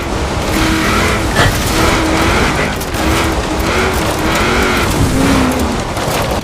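A car driving through a quarry in the video game Forza Horizon 4, with a loud, continuous engine roar whose pitch rises and falls with gear changes, alone without talk.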